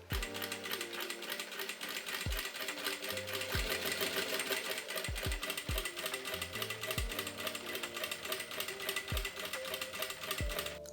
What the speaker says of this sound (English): sew the second straight stitch 1 centimeter from the edge to create the channel